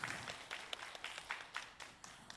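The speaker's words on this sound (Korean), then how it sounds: "여러분 큰 박수 부탁드릴게요" A crowd at a fan event in Busan applauds, with rapid overlapping claps that come through fairly faint and slightly distant.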